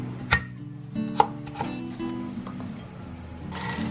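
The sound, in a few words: knife chopping ginger on a board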